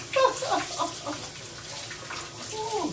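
Hot tap water running into a kitchen sink during dishwashing, a soft continuous splash with faint clinks, under a woman's chatter.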